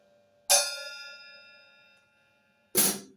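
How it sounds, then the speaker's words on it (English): A bright metallic ping from a struck cymbal bell rings out and slowly decays, followed by a second sharp strike near the end. "Or if you want, you can hit the bell."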